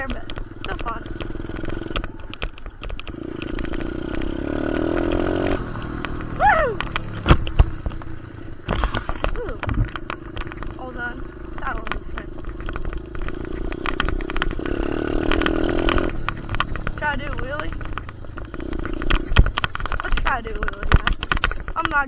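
A dirt bike engine revving while riding off-road: steady buzzing drone that rises and falls with throttle, joined by sharp clattering knocks and thumps, close and loud, with a rider shouting over it at times.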